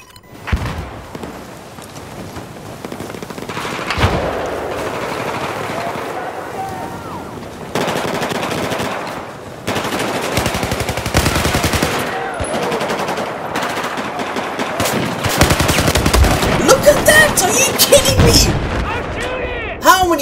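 Rapid machine-gun bursts and gunshots fire in a Battlefield 4 team deathmatch on PS4, loud and near, with explosions and someone talking over the shooting.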